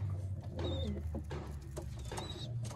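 Madras pigeons, a pair of fancy breed birds, coo softly in low repeated phrases against a steady background hum, with a few faint chirps mixed in.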